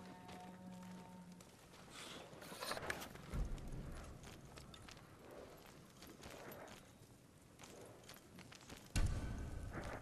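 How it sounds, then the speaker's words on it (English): Samurai horse hooves in the video game Ghost of Tsushima clip-clop across the ground in a steady, uneven rhythm, fairly close, with a heavier thump near the end and no talking. "They're samurai horses."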